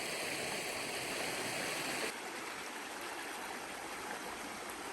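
Rapids rush along a riverbed at Natural Bridge State Park, Virginia, a steady, loud broadband roar of flowing water that stays constant throughout and eases slightly partway through, with no voices.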